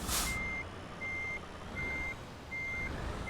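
Steady reversing beeps from a truck being parked in Euro Truck Simulator 2, four evenly spaced tones repeating over a constant low engine hum, with no voices.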